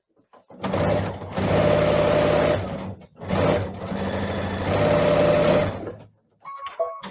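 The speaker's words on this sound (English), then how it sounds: "Now I just take it back to the machine and I'm going to do a 1/4 inch seam allowance all the way down" A sewing machine runs in two long, steady bursts while stitching a quarter-inch seam allowance down a small pieced block, with a short pause between runs and a few light handling clicks at the end.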